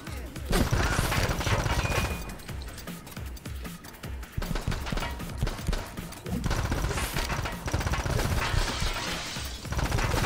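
Mac-10 submachine gun bursts in the shooter game The Club, aboard an ocean liner: rapid, dense automatic fire comes in long strings broken by brief pauses, loud and close over clattering mechanical game sounds.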